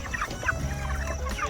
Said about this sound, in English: Make sure there's no chickens under there that are going to get pinned down.